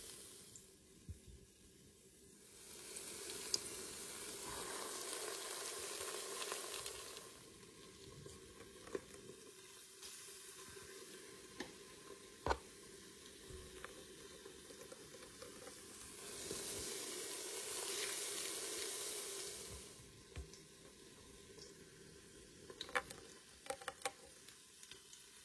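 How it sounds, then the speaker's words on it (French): Cauliflower fritters dipped in batter fry in a Cookeo multicooker, a sizzling crackle that swells and fades in waves, with occasional sharp pops and clinks close by. "Et je fais frire dans mon cookéo."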